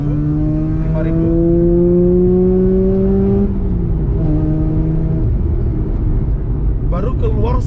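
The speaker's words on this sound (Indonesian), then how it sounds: "baru keluar suara khas dari mesin rotarinya, dan itu enak, candu banget." A Mazda RX8's rotary engine revs hard under acceleration, its loud droning pitch climbing steadily, then dropping at a gear change before rising again, with a voice talking near the end.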